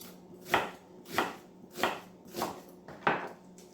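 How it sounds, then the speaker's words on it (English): Knife chopping red onions into wedges on a board, five evenly spaced firm cuts about every 0.6 seconds, close and clear with no talk. "I've got 2 red onions, which I'm literally just going to cut into wedges and sprinkle those over"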